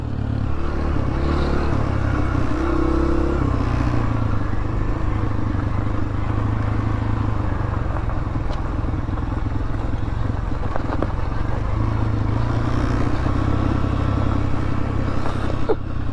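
A dirt bike engine drones steadily and loud throughout the ride, a continuous motor roar with slight shifts in pitch and no distinct pauses, heard up close without any talking.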